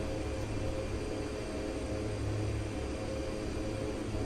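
Airplane engine heard from inside the cockpit, a steady, loud droning hum with a low tonal buzz that holds constant throughout, no voices over it.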